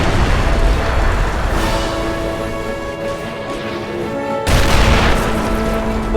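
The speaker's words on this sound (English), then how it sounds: "here comes the background artillery" Booming artillery fire in a staged toy war battle scene, dense rumbling blasts and crackling gunfire running throughout, loud and continuous, swelling again near the end.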